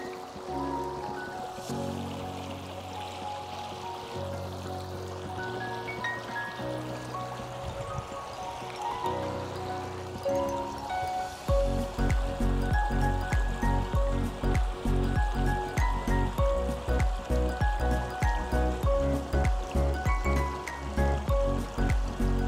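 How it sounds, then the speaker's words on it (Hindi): Steady flowing water of a cold, calm stream in autumn in Canada runs continuously, then grows louder and denser partway through, with a rhythmic low pulsing underneath. "पानी की आवाज कितनी प्यारी आ रही है।"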